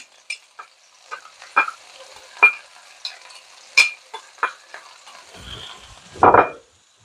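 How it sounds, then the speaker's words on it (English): Cremini mushrooms and onion are sautéed in a pan, heard as scattered clicks and scrapes of stirring over a faint sizzle, ending in a louder clattering rustle, close up and with no voices. "pour in my creminis. I'm also going to be putting in my onion."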